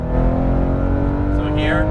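A Porsche 911 GT3 RS engine drones steadily on a race track, loud and continuous under an instructor's coaching voice, with a brief rising whine near the end.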